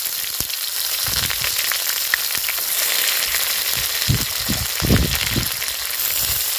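Chopped onions sizzle and crackle steadily in hot oil with whole cumin seeds, a loud continuous frying hiss with bursts of stirring, no talk.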